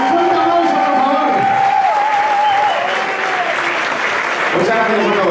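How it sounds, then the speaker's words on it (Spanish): Concert audience at Luz de Gas in Barcelona applauding after a rock and roll set, steady loud crowd clapping with cheers throughout, with a sustained tone and voices mixed in. "¡Un fuerte aplauso, por favor!"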